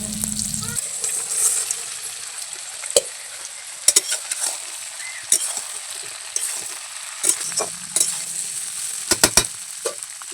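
Chilli cabbage stirred and fried in a pan over a home stove, a steady sizzle with scattered spatula scrapes and clinks close by, alone without talk.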